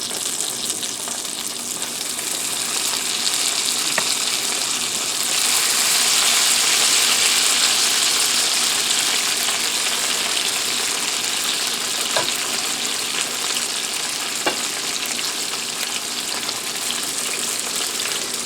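Apple pierogies fry in melted butter in a pan, giving off a steady, loud sizzle throughout with a few small clicks and stirring touches. It swells briefly in the middle and then settles back, with no talking.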